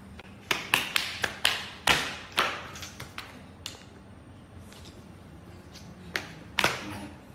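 A paddle ball struck back and forth indoors in a house, giving a series of sharp, separate taps in an irregular rally with pauses between hits, fairly close and alone without speech.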